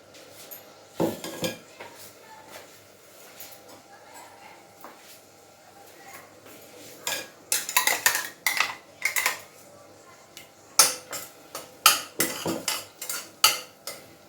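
Spice paste stirred into shallow hot oil in a pan, with repeated clinks and scrapes of a spoon against metal and a soft sizzle underneath, the strokes quickening toward the end.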